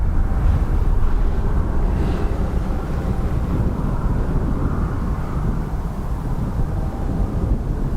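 An Aer Lingus Airbus A320neo jet at Dublin Airport makes a loud, continuous low roar that holds steady and close for the whole stretch, with some wind buffeting mixed in.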